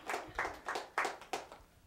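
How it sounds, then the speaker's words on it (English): A few people clapping faintly, six distinct rhythmic handclaps about a third of a second apart, quiet and fairly close, without voices. "I appreciate the applause"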